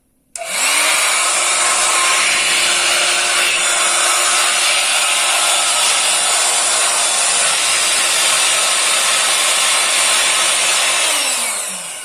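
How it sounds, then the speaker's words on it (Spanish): Air blower aimed into the cooling fan of a Lenovo ideapad 320 laptop, a loud steady rushing whoosh that starts abruptly and holds for about eleven seconds before easing off, with no talking. "con el dedo sostener para que no vaya a girar al momento de utilizar la sopladora"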